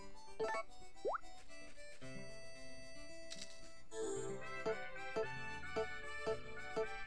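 Plopping, ticking game effects as plants are fertilized on a farm in Harvest Moon: A New Beginning, a series of short, soft pops and blips over quiet background music.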